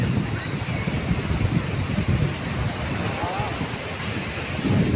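Ocean waves at Pondicherry beach, a continuous wash of surf mixed with gusty wind noise on the microphone, steady throughout with a slight swell near the end.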